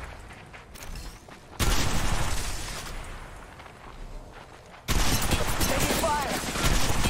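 Bursts of rapid automatic gunfire from Apex Legends Mobile come in two loud volleys separated by quieter game ambience.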